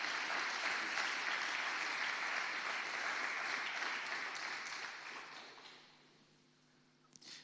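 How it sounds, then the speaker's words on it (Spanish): An audience gives a speaker grateful applause after a talk on evidence for life after death, dense clapping that holds steady and then fades away, leaving quiet room tone and a brief noise at the end. "Vamos a darle un aplauso de agradecimiento por todo el esfuerzo."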